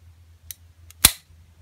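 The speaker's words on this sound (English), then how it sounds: "I'll hold on target here, and you'll hear it click a couple times." A Ruger LCR revolver dry-fired gives one sharp, loud trigger click close by, with a fainter tick shortly before it, against a low steady hum.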